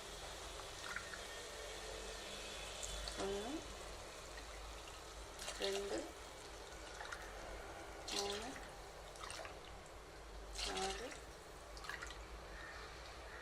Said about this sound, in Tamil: இப்போ வந்து தண்ணி ஊற்றிடலாம்